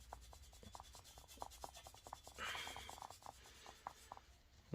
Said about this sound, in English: I'm using autoglym metal polish, right? So I'm just putting it onto a cloth like this and then rubbing it